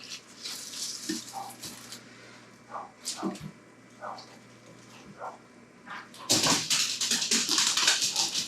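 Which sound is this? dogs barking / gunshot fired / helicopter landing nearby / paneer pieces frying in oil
dogs barking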